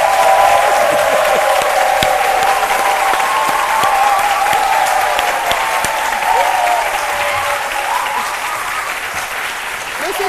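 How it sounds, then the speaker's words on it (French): A studio audience on a French-language midday television show applauds a guest, an African culture artistic director, with steady dense clapping that stays loud and even for ten seconds, slowly easing off toward the end. "je vous demande d'applaudir"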